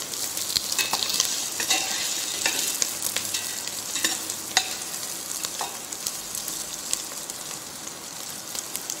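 Vegetables frying in mutton fat for a brown stock, a close, steady sizzle with bright crackling pops and occasional stirring scrapes, no voices.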